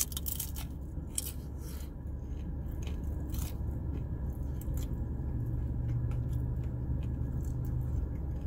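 Close, steady crunching and chewing of Jack in the Box tiny tacos, with repeated crisp bites over a constant low background hum and no talking.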